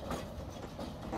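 A tram, the Tramkar T6M-700 in the game Omsi 2, rolls along its rails with a steady, loud rumble and faint rhythmic clicking of the wheels over the track, heard alone without any talking.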